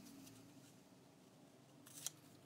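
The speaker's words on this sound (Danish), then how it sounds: "Jeg ved ikke, hvorfor jeg ikke lige tog den store saks" Small scissors snipping through paper while making a junk journal, a faint quiet hiss of cutting ending in one sharp close snip near the end, no talking.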